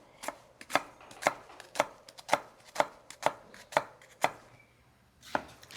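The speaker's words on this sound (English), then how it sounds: "I'm going to chop up 1 medium onion" A knife chopping an onion on a cutting board in a steady rhythm of about a dozen sharp, close knocks, with no talking.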